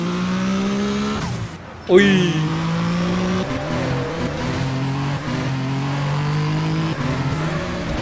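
A car engine in a GTA game with Need for Speed Underground 2 styling revs loudly with a steady growl, briefly dropping before a sharp surge, as someone talks in Turkish over it.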